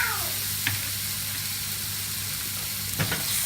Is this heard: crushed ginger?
yes